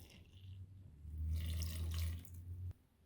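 Two cups of water pour into perogy dough, a close running splash that swells for about a second and a half, then cuts off sharply.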